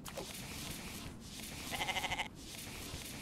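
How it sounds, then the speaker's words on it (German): Sheep bleating in the 2024 video game The Infected, a short wavering, pulsing bleat heard at moderate distance for about half a second over steady ambient game background noise. "aber das ist doch ein Schaf, was ich hier höre"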